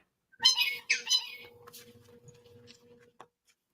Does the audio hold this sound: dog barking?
no